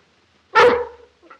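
A single sharp dog bark rings out close by, followed by a faint short yip.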